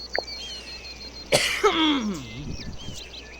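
A single sharp cough bursts out at close range, followed by a throaty rasp that trails off, against a quiet background.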